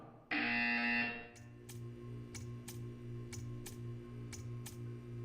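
A loud electronic buzzer from the video game Portal 2 blares for about a second, then gives way to steady, evenly spaced ticking over a faint hum.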